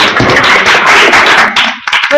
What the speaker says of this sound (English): Virtual applause.